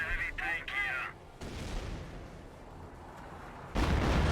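Artillery barrage in the real-time strategy game Company of Heroes, with deep booming impacts and rumbling blasts after a few high whistling tones, ending in a loud burst, while a voice talks underneath.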